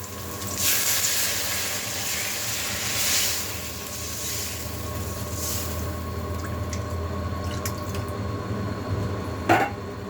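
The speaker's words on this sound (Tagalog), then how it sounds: "kumukulo ng ating gata" Steady bubbling and sizzling of coconut milk boiling in a pan, continuous and close, with a brief clink near the end.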